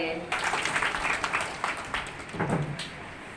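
Audience applause at a Brahma Kumaris gathering in Siliguri welcomes a police officer guest to the stage, a dense, steady patter of many hands lasting about three seconds, with voices mixed in.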